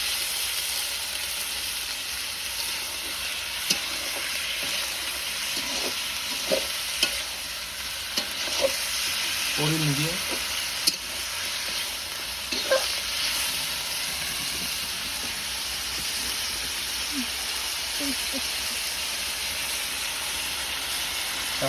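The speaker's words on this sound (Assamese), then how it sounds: "এতিয়া অলপমান ভাজি থাকিম মাংসটো" Meat frying in a pan over high heat, a steady close sizzle with occasional scraping stirs and clinks, while a person speaks briefly.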